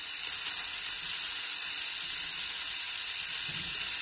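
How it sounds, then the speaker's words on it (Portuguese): Chili pepper sautéing in a hot frying pan with fish, giving a steady, even sizzle and hiss that holds close and constant throughout. "E vou saltear um pouco"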